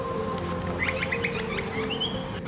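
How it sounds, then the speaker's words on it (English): A Pacific baza, or crested hawk, in Sydney gives a rapid series of high, clipped whistling notes, ending in a thin drawn-out whistle, over a steady low hum. "the crested hawk or Pacific bazza"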